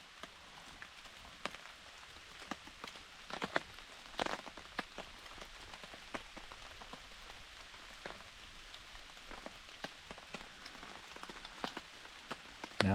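Rain falls steadily at a campsite at Salamonie, a soft, even patter with scattered louder drops striking nearby surfaces, heard alone and fairly faint throughout.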